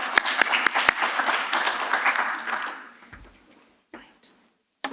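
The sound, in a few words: audience applause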